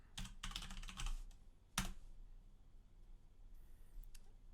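Quick bursts of typing on a computer keyboard, close and fairly quiet, with a cluster of rapid keystrokes followed by a single sharp press, then soft isolated taps.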